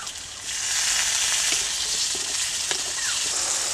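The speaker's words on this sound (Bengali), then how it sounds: "এতে দিয়ে দিচ্ছি কুচানো টমেটো।" Chopped tomato goes into a pan of frying onion for a Bengali fish curry, a loud continuous sizzle with occasional stirring clinks and scrapes, no voices.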